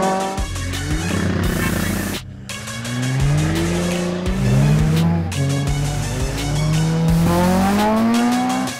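Cars at an illegal street race, engines revving hard and roaring through repeated gear changes with rising and falling pitch, loud and close, with a brief gap before the next car screams past.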